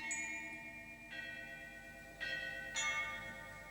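Ancient Chinese bronze chime bells from the Marquis Yi set of 64, struck one after another: four clear metallic strikes with long ringing decays that overlap, moderately faint.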